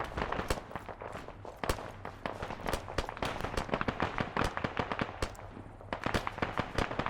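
Gunfire in the military video game Arma 3, rapid irregular cracks and pops from several weapons in an urban firefight, continuous and fairly loud without talking.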